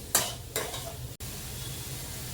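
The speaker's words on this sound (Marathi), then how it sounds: "मसाले चांगले मिक्स करून घेऊया" Spices are stirred into a masala pav mixture in a pan, with two quick scraping strokes over a low steady sizzle, close by and without speech.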